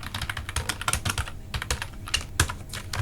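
Fast, steady clatter of keys on a computer keyboard during spreadsheet data entry in Excel, close and continuous with no voices.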